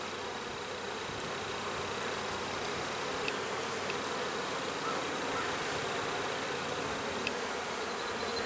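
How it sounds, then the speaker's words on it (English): Dense, steady buzzing of many honey bees crowding a hive frame, close and continuous, with a few brief higher insect whines passing through and no voices. "Lots of bees on this frame."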